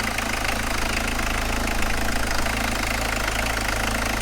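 Engine idling steadily after being restarted with a squirt of easy start, a continuous loud mid-pitched running drone with a faint knocking rhythm, close by and alone.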